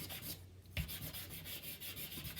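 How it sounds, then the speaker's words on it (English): White charcoal rubbed back and forth over the back of a paper drawing, a close, rhythmic dry scrubbing of even repeated strokes, with one brief pause near the start. "you're just going to rub it over the back of where your drawing is."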